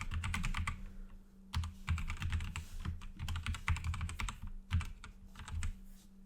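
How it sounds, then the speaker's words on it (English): Steady typing on a computer keyboard while an email address is entered, quiet but close, with a low hum underneath and brief gaps between clusters of key presses. "You will type in the email that you just used."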